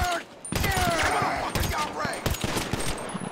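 Enemy gunfire in GTA 5 Online crackles in several sharp bursts of shots, with a brief lull and then rapid clustered rounds at close to mid range, loud against ongoing game noise.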